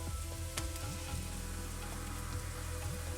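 Tomatoes sizzling as they fry in hot spices and chilies for butter chicken, a steady loud crackle with a few sharp pops and stirring scrapes throughout.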